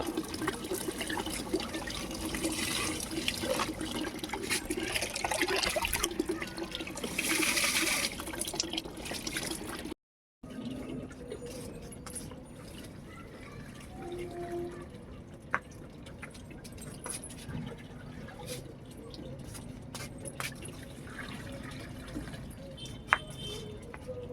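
Water splashes and pours steadily onto a dragon fruit plant for about ten seconds, then it cuts off, leaving faint dripping and quiet ambient noise.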